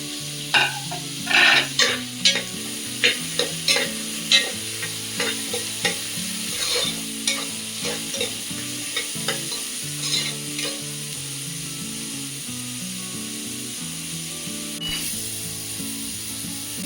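Carrots, beans and peas fry in ghee for ghee rice, a loud sizzle under frequent rhythmic stirring and scraping of the spatula against the pan, with no one talking.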